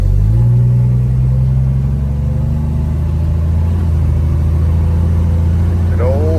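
A Mopar Slant 6 cruiser car pulls away, its engine a steady, loud, close low drone with a slight rise in pitch as it gets underway, carrying on throughout the clip.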